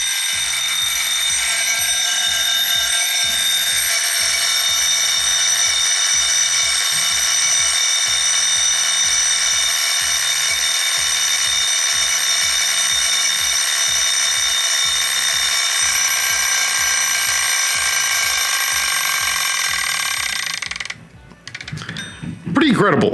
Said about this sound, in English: quickly, we'll listen to the alarm